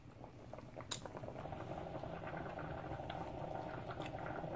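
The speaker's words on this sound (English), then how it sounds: "to boil this plant, to boil this cocoyam" A soft, steady bubbling of cocoyam boiling in a pot of water, with faint pops and crackles over a low background hum.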